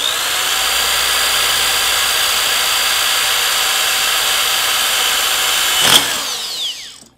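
A power drill bores a hole in the lens cover of a Kodak Zi8 camera, with a steady, close, high-pitched motor whine lasting about six seconds before it spins down and stops.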